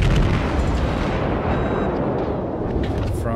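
Battleship naval gunfire in the video game World of Warships, a dense roaring barrage of booming shell blasts and explosions merging into continuous loud noise.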